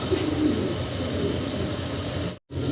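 Fancy pigeons coo in a continuous low, throaty murmur, close by and fairly loud, with a brief cut of silence near the end.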